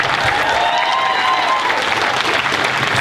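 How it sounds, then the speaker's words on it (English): A crowd claps steadily for young event organizers at an outdoor Juneteenth gathering in a park, dense and fairly close, holding at an even level throughout with no talk over it. "Give them a hand."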